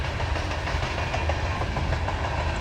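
A long freight train rolls steadily past a crossing in Belfield, its wheels giving a continuous loud rumble and clatter as the last cars and caboose approach, with no voices.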